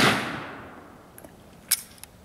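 A single shot from a WASR-10 AK rifle at an outdoor range: a loud, sharp report whose tail fades quickly, followed by a few faint metallic clicks.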